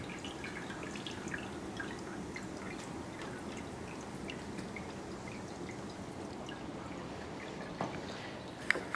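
Maple sap trickles into an evaporator during syrup boiling as a faint, steady flow with scattered soft drips, heard up close over a low background hum.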